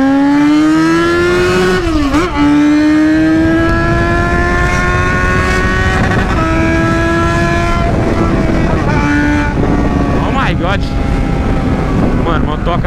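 Yamaha XJ6 motorcycle with a welded exhaust revs loudly up close, its engine note rising and dipping through several throttle blips over a steady idle, with a voice talking over it.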